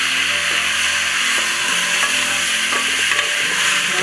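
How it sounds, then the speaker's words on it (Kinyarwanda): Pork pieces frying in hot oil as they are stirred in a pan, giving a steady close sizzle with scraping and clinking of the utensil against the pan, no talk. "Urabona ko zatangiye kubyara mu mavuta."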